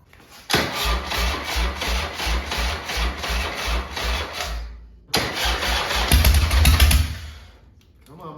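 A cold EVO engine on a leaking Softail motorcycle, hooked to a battery charger, cranks loudly with a steady rapid starter rhythm for several seconds, pauses briefly, then cranks again and sputters as it tries to catch before fading.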